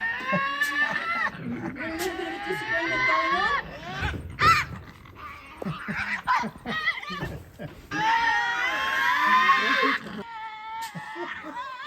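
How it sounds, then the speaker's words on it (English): Harsh, drawn-out screeching and growling from Tasmanian devils, close and loud, in long wavering bursts with short breaks between. "the gorgeous Tassie Devils, which seemed totally cute and cuddly, until we heard them scream"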